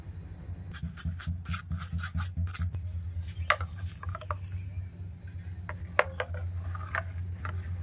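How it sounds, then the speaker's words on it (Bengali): Mint and mango purée pressed through a kitchen sieve, a rhythmic close-up scraping and rubbing in quick repeated strokes with a few light knocks, over a low steady hum. "এবার এই পিউরিটা ছাঁকনির সাহায্যে ছেঁকে নেব।"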